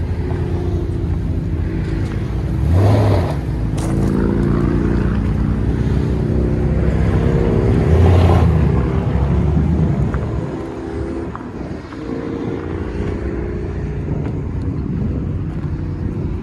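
A Toyota Tundra 5.7L V8 with a custom aftermarket exhaust rumbles deep and loud through a throaty exhaust, swelling with revs a couple of times before settling back to idle.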